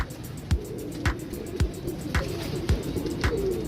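Antique Teddy pigeons of the Chaudhry Sakhi Patti bloodline coo in a steady series of about seven low, evenly spaced calls, close by, with faint background hum and no talk.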